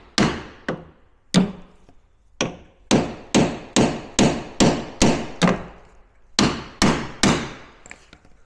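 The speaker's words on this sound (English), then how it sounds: "we're just going to give those 2 pins a smash with a hammer" A hammer strikes the pins on a Range Rover Sport's automatic side step in a series of sharp, loud metallic blows, close by, some single and some in quick regular runs, with short pauses between groups.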